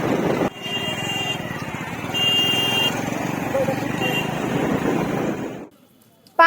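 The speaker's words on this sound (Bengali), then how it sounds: "একটি ভাইকে পাকড়াও করেছি তার বাইকেই যাচ্ছি এখন সঙ্গমের দিকে" Motorcycle carrying a passenger toward the Sangam at the Prayagraj Maha Kumbh, a steady engine drone with road noise and occasional horn toots, running continuously before cutting out near the end.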